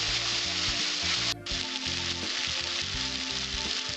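Turmeric, slit green chilies and red chili powder fry in a pan with a steady, dense sizzle that runs throughout, with a brief scraping stir partway through; no one speaks.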